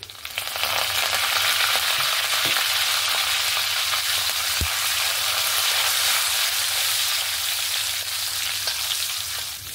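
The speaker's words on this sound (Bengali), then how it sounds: "এবার ফোড়নে দিয়ে দেব শুকনো লঙ্কা, 5 ফোড়ন, জিরে, সামান্য একটু হিং, তার সঙ্গে দিয়ে দেব কারি পাতা ধুয়ে পরিষ্কার করে নিয়েছি।" Dried chillies, panch phoron, cumin, a pinch of asafoetida and washed curry leaves fry in hot oil, giving a loud, close, continuous sizzle that hardly changes for about ten seconds, with no talking.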